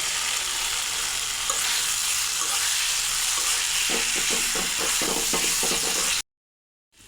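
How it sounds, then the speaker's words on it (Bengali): Pre-fried potatoes being stir-fried with cooked spice paste in a pan, a constant loud sizzle with a quick run of scraping and stirring knocks toward the end before a brief cut to silence. "এবার ভেজে রাখা আলু দিয়ে মশলার সঙ্গে কষিয়ে দেবো।"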